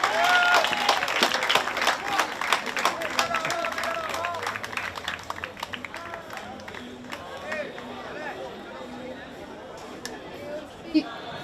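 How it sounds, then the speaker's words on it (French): Audience applause and crowd noise at an elite Boxe Française savate gala, dense clapping at first that thins into murmuring chatter, with an announcer's voice over it. "on peut applaudir plus fort que ça."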